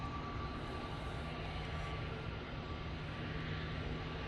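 A Cathay Pacific airliner landing at Manchester Airport gives a broad, steady roar of engines and braking, distant and continuous with no change in level throughout.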